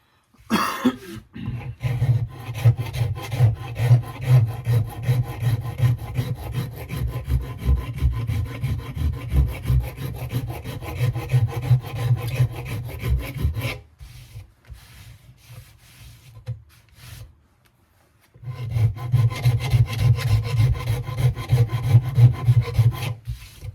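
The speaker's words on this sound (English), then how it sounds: "I'm going to clean that head up a little bit, and then I'll sand the handle" Rhythmic rubbing and rasping on a vintage axe, the wooden handle being sanded and the steel head cleaned, loud and close in steady strokes that pause briefly mid-way before resuming.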